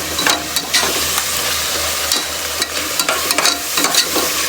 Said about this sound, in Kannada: ಇದನ್ನು ಚೆನ್ನಾಗಿ ಫ್ರೈ ಮಾಡೋದಪ್ಪ